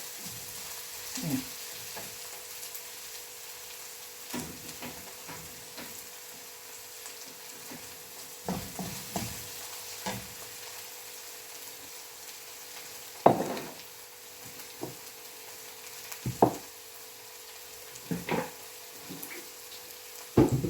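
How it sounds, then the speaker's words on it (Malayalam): Gentle, steady frying sizzle from onions in a pan, with occasional soft clinks and scrapes of stirring, no voices. "ആ ഉള്ളിയൊക്കെ അങ്ങനെ കിടന്നൊന്ന് വേവട്ടെ."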